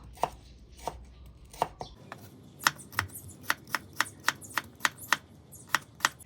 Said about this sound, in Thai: เสร็จแล้วก็นำเนื้อมาหั่นเป็นชิ้นๆ หั่นเป็นแบบไหนก็ได้นะคะ